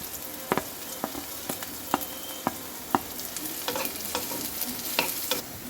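Chopped carrot goes into a pan of frying onion and chilli, giving a steady close sizzle with sharp crackles and pops scattered throughout.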